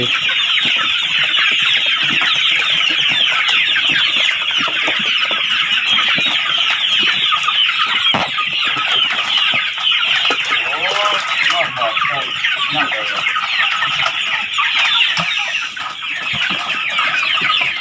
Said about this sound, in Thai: เสียงไก่เงาะเึิง